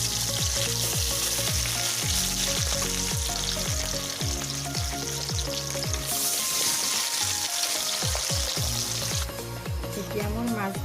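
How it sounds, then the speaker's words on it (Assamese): Fish fries in hot oil in a wok for an Assamese mustard fish curry, a loud, close and continuous sizzle with regular scraping strokes as the pieces are turned. "প্ৰথমে মই মাছখিনি ভাজি ল'ম।"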